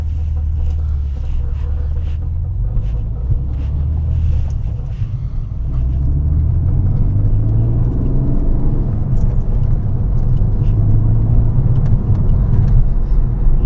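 An Alfa Romeo GT's engine rumbles steadily as the car pulls out of a car park, a deep, continuous drone that rises and falls with throttle and carries wind noise throughout.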